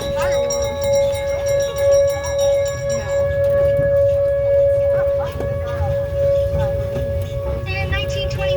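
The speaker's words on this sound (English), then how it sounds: "This tornado siren makes me laugh." A tornado siren test at the Oklahoma City Zoo sounds as a steady, loud wailing tone held throughout, with a broadband outdoor murmur beneath it and faint chatter from nearby people.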